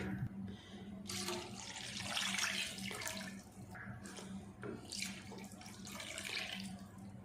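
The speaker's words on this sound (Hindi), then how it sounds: "अब इस जगह पे हम इसमें डालेंगे दूध" Milk pouring from a mug into a pot of vermicelli (semiya) being cooked for a sweet milk dish, a steady liquid splashing and trickling that swells and eases in waves, close and alone with no talk.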